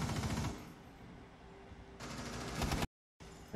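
Rapid automatic gunfire in the video game Rainbow Six comes in two dense bursts, loud and close, with quieter firing between them and a brief dead silence before a final short volley.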